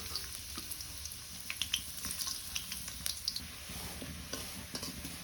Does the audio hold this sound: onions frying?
yes